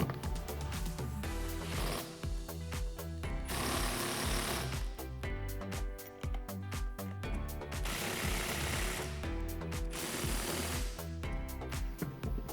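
A ratchet with a 17mm socket tightens strut bolts on a 2019-2022 Silverado 1500 during a leveling kit install, a loud close series of quick rattling clicks in bursts with short pauses between them.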